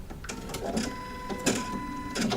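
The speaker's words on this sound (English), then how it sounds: "it threads nicely with the auto threader" Sewing machine auto threader pulling a thick thread through, a quick run of sharp mechanical clicks and clacks in short bursts over about two seconds, close by with no talk.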